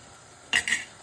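A spoon scrapes twice in quick succession in a pan as sabzi masala is stirred into a Telugu-style curry, brief and close with no talk.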